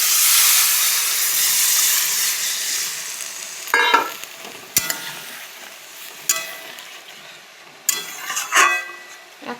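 Water poured into a hot wok of a peas-and-potato pakora gravy sets off a loud steamy hiss that fades, followed by several sharp scraping stirs and clatters of the spoon against the pan.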